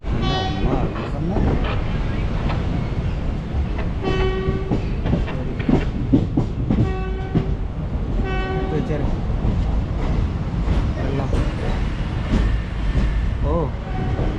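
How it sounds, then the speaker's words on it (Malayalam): A train pulls into platform 1 at Thiruvananthapuram Central with loud horn toots and a rhythmic clickety-clack of wheels over rail joints, continuous and close, while people talk nearby. "1ാമത്തെ പ്ലാറ്റ്ഫോമിലായിരിക്കും ചിലപ്പോൾ ഈ ട്രെയിൻ നിർത്തുന്നത്"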